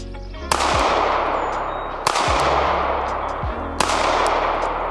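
Three loud, sharp gunshots from a SIG P365 Fuse pistol with a 3.1-inch slide and DPM recoil reduction system, evenly spaced about 1.5 seconds apart, each followed by a long echoing decay outdoors.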